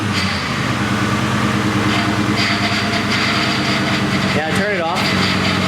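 A truck engine idles steadily and loudly while its wheels are turned left and right to flush the power steering, with a brief whining strain near the end and talk over the running motor.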